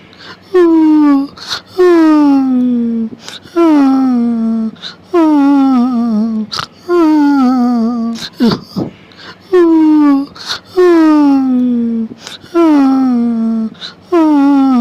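Cartoon characters cry and wail in a Hindi animated story, a series of long, loud, falling sobbing wails repeated in a steady rhythm, one after another, with a brief gasp partway through.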